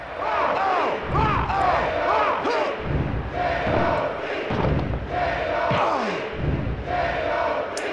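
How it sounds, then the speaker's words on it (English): A wrestling arena crowd in the PS1 game WWF Attitude roars and cheers continuously, with rising whoops and shouts layered over dull thuds of in-ring impacts, loud and sustained throughout. "And the crowd comes alive."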